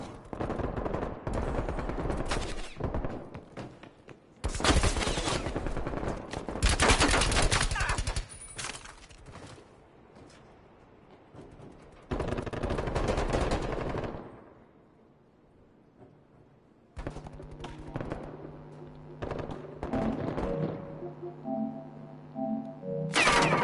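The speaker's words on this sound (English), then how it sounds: "What the fuck is shooting at me?" Call of Duty team deathmatch gunfire, with loud bursts of automatic shots separated by quieter gaps, some rounds sounding close and others more distant, and a few booming impacts among them.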